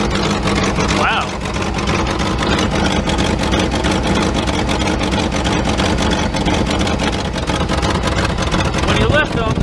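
1977 Mercedes 450SL engine running with the plug wires lifted, a loud steady mechanical drone with dense rapid pulsing, and a person talks over it.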